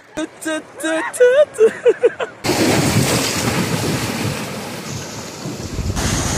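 Large waves breaking and surging on a clear, crowded beach in Quezon Province, a broad steady roar of surf with wind noise that takes over after a few seconds of voices and singing at the start.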